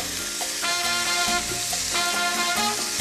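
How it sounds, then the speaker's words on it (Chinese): Cod fillet pan-frying in hot oil during a braised-cod cooking segment, a steady close sizzle running throughout with light clatter, overlaid by continuous background music. "我要煎了。"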